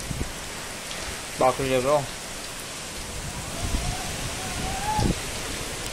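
Steady hiss of the season's first monsoon rain falling outside a home in India, a soft continuous wash with a few short voices heard over it.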